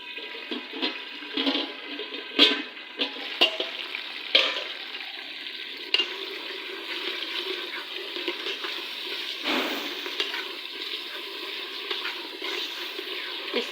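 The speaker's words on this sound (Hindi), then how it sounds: "तो इसके अंदर डालेंगे थोड़ा सा पानी ताकि ये मेल्ट हो जाए" Water is poured into a pan of browned onions on the stove, producing a steady hissing sizzle with bubbling and a few sharp spatters, fairly close and continuous.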